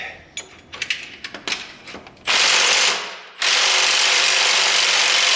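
Ratchet wrench on a long extension turning a bolt on a Jeep 4.0-liter engine: a run of short, clicking ratchet strokes, then two sustained loud noisy bursts, close up with no talk.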